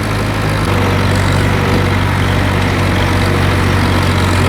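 A Ford 6610 tractor mowing alfalfa in a field with irrigation pipe laid out gives a loud, steady engine drone with a constant low hum that runs through the whole stretch, and no voices.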